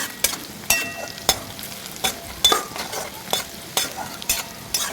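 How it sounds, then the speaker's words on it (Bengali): Chopped green chillies are stirred as they fry in a pan, with a spoon knocking and scraping the metal in a quick, regular rhythm over a soft background sizzle. "এবার আমি এই লঙ্কা কুচিগুলো দিয়ে দিচ্ছি এটাকে নাড়িয়ে নেবো ভালোভাবে"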